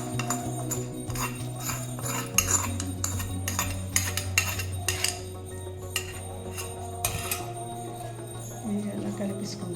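A spoon stirs little millet curd rice with a tempering of cumin, green and dried red chillies and grated ginger, making close, repeated metallic clinks and scrapes against the pot in an irregular rhythm.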